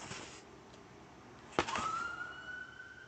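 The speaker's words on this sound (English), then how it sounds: "And there's the sirens." Police siren wailing in the distance, a faint rising tone that starts after a brief thud and holds steady, with no talk over it.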